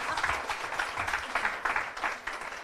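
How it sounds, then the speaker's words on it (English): A studio audience at a breast cancer awareness talk gives a short round of applause, rhythmic clapping pulses that stay moderately quiet throughout. "Can we have a little bit of an applause for that,"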